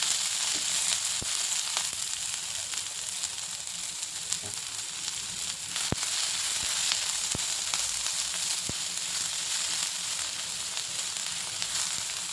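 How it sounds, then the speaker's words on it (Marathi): Finely chopped onion and green chilies sauté in a pan for a fenugreek vegetable dish, giving a steady, close sizzle with occasional soft clicks of stirring and no talk. "मी हा एक मोठा कांदा बारीक चिरून घेतलाय, तो परतून घेते आणि त्यात मिरच्या टाकते"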